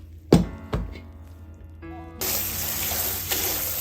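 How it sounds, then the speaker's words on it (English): Brined kimchi vegetables knock twice into a sink, then a tap runs in a steady, close, loud gush of water with small splashes as the salt is rinsed off. "Making sure you give this a good rinse because we want the excess salt out of it."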